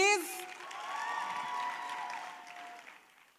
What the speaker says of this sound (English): let me hear you give a huge round of applause